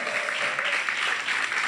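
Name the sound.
audience applause for Marie-Jo on stage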